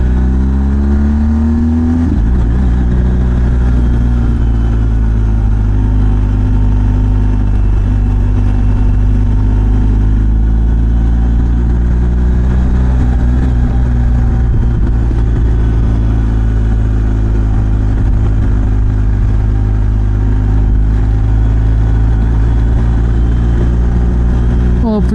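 A BMW GS1250 Adventure motorcycle rides along steadily, with a loud, close engine drone that rises and falls through gear changes for the whole stretch, and a rider talking at times over it.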